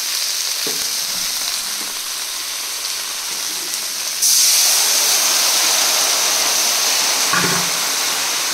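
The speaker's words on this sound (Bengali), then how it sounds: "একদম যাতে ঝাল ক্রেজি টাইপের ভাজা ভাজা হয়" Spicy okra frying in a pan makes a continuous sizzle that suddenly grows louder and hissier midway and stays intense, with occasional soft stirring knocks.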